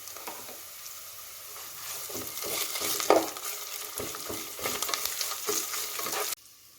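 Ginger garlic paste frying with curry leaves in a pan for tomato rasam, a close swelling sizzle with stirring scrapes that cuts off abruptly near the end, no talking.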